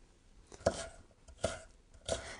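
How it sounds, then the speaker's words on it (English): A knife chops leftover tomato on a cutting board in a home kitchen, three distinct thuds spaced roughly evenly, close and moderately loud against a quiet background. "go ahead and chop them up"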